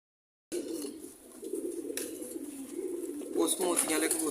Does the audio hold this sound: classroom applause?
no